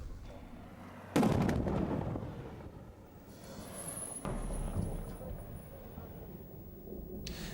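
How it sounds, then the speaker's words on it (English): Distant tank shelling during an artillery bombardment of Taliban positions, heavy booming blasts rolling out two or three times over a low, rumbling background, with faint voices around. "and the tanks continued their shelling"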